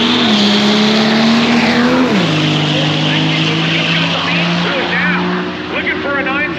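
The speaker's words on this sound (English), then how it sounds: "This is Jesse Harris, the diesel-powered square-body pickup truck." Diesel-powered square-body pickup truck drag racing at Sick Week 2023, a loud engine roaring at full throttle with a sharp downshift in pitch midway, then sustained high revs with crowd and announcer noise mixed in.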